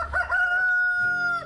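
A chicken in a backyard egg-laying coop lets out a single short, loud, close crow with a rising then sustained tone that drops off at the end.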